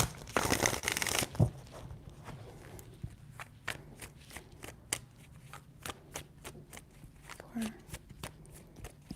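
Tarot cards are shuffled in a quick run of crisp riffling at the start, followed by sparse soft taps and card handling, with a voice speaking quietly in the background.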